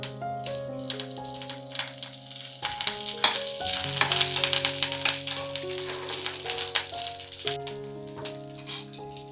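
Curry leaves crackling and sizzling in hot oil in a pan, a loud continuous frying hiss with sharp pops and stirring clatter, while steady music plays underneath.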